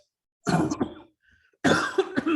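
Two bursts of lingering coughing from a recent illness close by, a pause of quiet between them, each a harsh, rough rasp.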